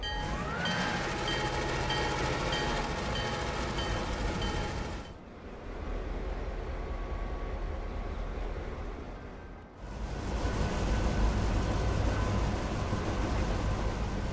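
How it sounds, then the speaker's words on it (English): A long train rolls past continuously with a steady, loud rumble and rattle of wagons, briefly dipping twice in level before the rumble returns at full strength. "So this should be our longest train"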